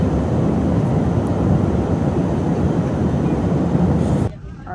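Inside an airplane cabin during the approach to land, a steady loud engine and air rumble fills the space, then drops off abruptly near the end.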